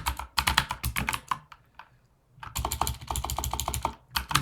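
Rapid keystrokes on a computer keyboard while coding in Go, with dense bursts of typing, a brief pause near the middle, then more steady clicking, close and clear.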